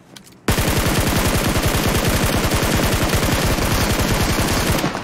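Sustained automatic fire from a Scar rifle in PUBG Mobile, a loud fast string of evenly spaced shots that bursts in after a short quiet moment and runs nonstop for over four seconds.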